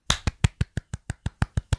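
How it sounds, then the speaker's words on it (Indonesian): A single person claps hands about ten times in a quick, steady rhythm, each clap sharp and close, with nothing else heard. "Tepuk tangan."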